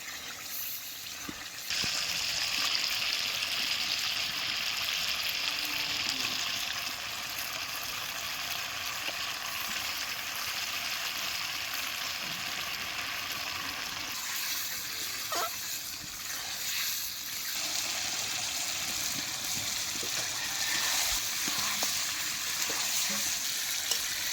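Chicken meat hits spiced oil and fries with a steady, moderate sizzle that swells when the meat goes in and continues evenly, with a few faint clinks from stirring.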